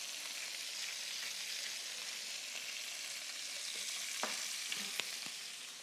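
Food sizzling and frying steadily in a pan on a kitchen stove, a continuous close hiss with a few faint clicks and taps of utensils near the end.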